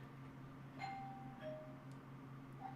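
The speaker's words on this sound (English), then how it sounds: "There's somebody ringing my doorbell." Household doorbell rings with a couple of soft electronic chime tones over a low steady hum, faint and somewhat distant, with no voices.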